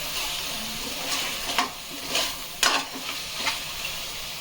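Chicken biryani masala frying in a pan while being stirred, a steady close sizzle broken by several louder scraping stir strokes at irregular intervals, with no talking.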